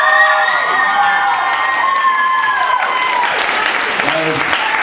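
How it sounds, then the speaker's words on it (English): Loud, dense audience applause with cheering fills a fan-convention stage show, steady throughout while a voice keeps speaking over the clapping. "Give the most gigantically enormous erectile round of applause to our Edward Cullen."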